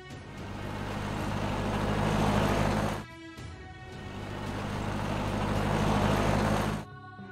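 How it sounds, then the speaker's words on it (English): A car passes by twice, each time rising from quiet to a loud broadband whoosh and cutting off abruptly, with no talking. "Car."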